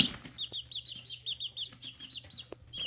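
Buff Orpington and Barred Plymouth Rock chicks at two and a half weeks old give a steady run of close, bright peeping chirps in quick repeated bursts, with faint low background hum and no talking.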